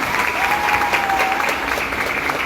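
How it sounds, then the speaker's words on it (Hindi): A crowd claps loudly for itself at an awards show celebrating achievers, dense continuous applause from many hands with a few scattered voices mixed in. "एक जोरदार ताली आप लोग खुद के लिए बजाइए"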